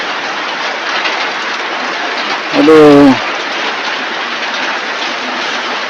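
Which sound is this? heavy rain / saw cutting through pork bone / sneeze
heavy rain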